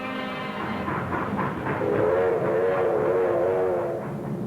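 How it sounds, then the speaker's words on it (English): Freight trains move along rails in wartime 1944 footage, a steady loud rumble and clatter of rolling cars with a sustained tonal whistle-like drone rising midway, continuous throughout. "Trains were assembled on the spot, loaded with freight and sped forward."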